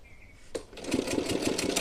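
Sewing machine stitching the waistband of a small Laddu Gopal dress, a close, steady rapid whirring that starts after a brief pause and runs on continuously without talk.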